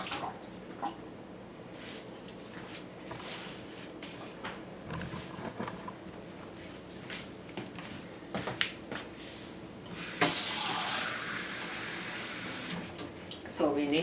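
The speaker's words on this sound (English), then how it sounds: "So let's just add the water." Water is poured into a pot for cooking, a gush lasting a few seconds after quieter clinks and kitchen handling sounds, all fairly faint.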